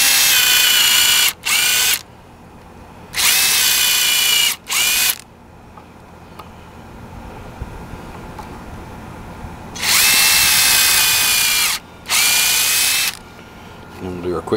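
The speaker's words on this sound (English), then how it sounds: "we'll just put a few pilot holes in there" Power drill bores pilot holes into a 2x4 on a deck safety rail, four loud whining bursts of a second or two each with pauses between, and someone talks in the gaps.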